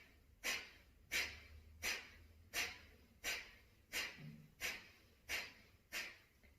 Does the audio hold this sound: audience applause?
no